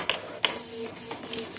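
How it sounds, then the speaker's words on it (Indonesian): A Canon IP2770 inkjet printer printing onto DTF PET film, with sharp clicks and the whir of the print head shuttling back and forth, close and fairly loud. "di sini saya hanya menggunakan printer Canon IP2770"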